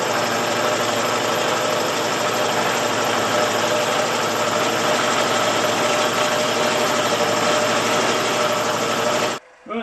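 A machine cuts gear teeth for the crankshaft of a 2-inch Fowler Showman's model traction engine, giving a loud, steady, close mechanical drone with a rapid rhythmic chatter, stopping abruptly at the end.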